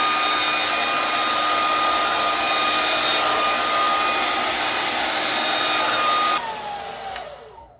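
A Conair blow dryer fitted with a comb attachment roars at a steady high pitch while drying hair, then cuts off and whines down to silence over the last second or so.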